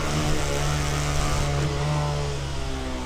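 Honda Grom motorcycle engine holding a steady, buzzing drone with strong low harmonics during wheelie practice in a parking lot, loud and close throughout with no talk.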